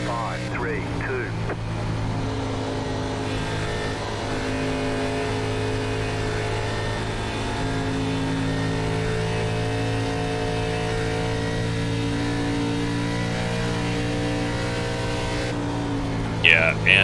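ARCA stock car engine in an iRacing race at Texas Motor Speedway, droning at a steady high pitch with slowly shifting tone as it holds throttle through the lap, with faint commentary voices over it.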